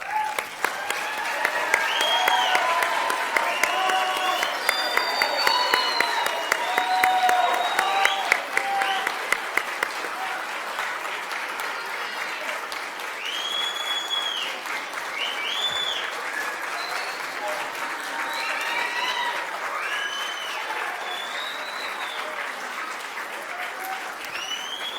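An audience at a 2019 CAMP graduation ceremony gives a long, loud round of applause, with whoops and scattered shouts rising over the clapping. The applause peaks early and then settles into a sustained ovation.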